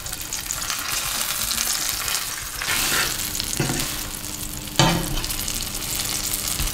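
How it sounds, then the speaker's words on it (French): A sole fish fries in a hot pan as butter is spooned over it: a continuous, close sizzle with a few sharp clinks and scrapes of the spoon against the pan, and no speech. "Et après, on va l'arroser de beurre."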